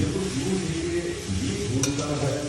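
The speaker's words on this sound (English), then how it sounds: "Get a nice mix and fry it for another 5 minutes" Onions and Kashmiri chili fry in a pan for pork vindaloo, making a steady low sizzle with soft stirring scrapes, close up and without talk.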